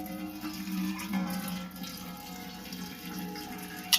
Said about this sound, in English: the water comes right on out.